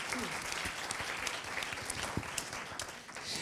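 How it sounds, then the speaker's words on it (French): Steady, fairly faint applause from an audience at a talk on economic transition, continuous clapping with a few sharper claps standing out, lasting the whole stretch. "Vous pouvez l'applaudir"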